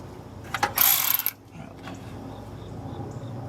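A Milwaukee power tool tightening a bolt on a Monte Carlo CL, heard as a short loud mechanical ratcheting burst of about half a second, then a quiet, faint background hum.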